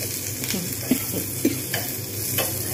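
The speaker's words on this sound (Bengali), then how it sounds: "এরকম করে নেড়ে নেড়ে একদম পুরো ভালোভাবে ভাজা করে নিতে হবে" Curry leaves sizzle and crackle in hot oil while a spoon stirs and scrapes the pan in a few distinct strokes, steady and close, with no talking.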